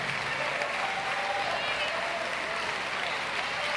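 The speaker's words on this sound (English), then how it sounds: "Give Jonathan Jackson another great round of applause for delivering our family message to the world." An audience at a funeral service applauds in a steady, dense wash of clapping that holds at an even level, with voices mixed into the crowd noise.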